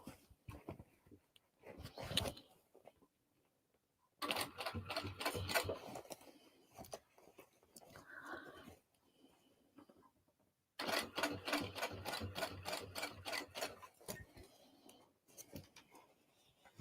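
Domestic sewing machine top stitching a bag, running in long steady bursts of rapid mechanical clatter separated by quiet pauses, close and fairly loud, with brief handling noises between runs.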